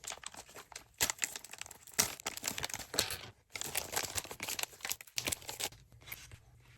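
Plastic packaging around a Bensonite Jazzmaster or Jaguar guitar bridge being cut open, giving close, busy crinkling and tearing with short crunchy bursts and a brief pause midway.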